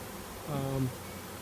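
A honey bee swarm being shaken into a collection box buzzes softly, a faint droning hum that swells briefly and fades against quiet outdoor background.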